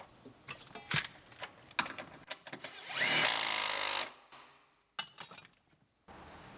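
Power tool on an Acura RDX rebuild driving in the bottom bolt of a seat belt: short buzzing bursts with clinks between them, one longer steady whir in the middle, then a sharp final burst and quiet.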